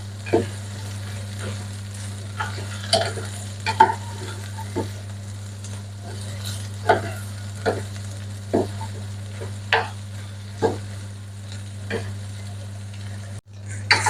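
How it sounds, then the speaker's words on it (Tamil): Soya meat fried in oil and stirred for a curry: sharp spoon scrapes and taps sound at irregular intervals over a faint sizzle and a steady low hum. "நல்லா வதங்கணும் இந்த எண்ணெயில சோயா மீட் அப்பதான் நாங்களே கறி வந்து நல்ல சுவையா இருக்கும் நல்லபடியாக நல்லா கிளறி விட்டு கொள்ளுவோம்"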